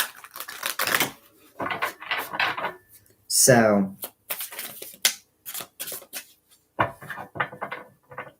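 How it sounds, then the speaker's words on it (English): Deck of tarot cards shuffled by hand in a few quick riffling bursts between stretches of someone talking, close and fairly clear. "I'm going to give it a couple good shuffles."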